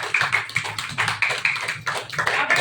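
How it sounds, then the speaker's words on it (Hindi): Audience at a meeting clapping steadily for several seconds, a dense patter of many hands kept fairly close and loud, with no talk over it. "हम चाहेंगे बार टीसी सर के लिए जबरदस्त तालियां बजाइए"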